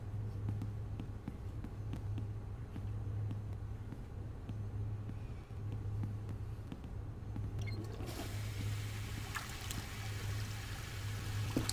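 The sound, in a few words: toilet flushing in the video game The Longest Journey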